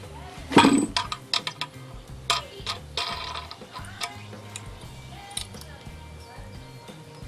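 A wing nut being threaded onto a bolt and hand-tightened on a scratch-built equipment trailer, a few close metallic clinks and scrapes early on, then soft faint rattles over a low hum.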